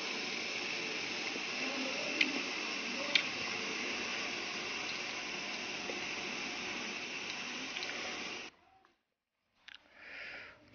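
Ferrite transformer core boiling in a pot of water gives a steady, close bubbling hiss with a couple of faint clicks for about eight seconds, then cuts off into near silence before a short burst of noise returns.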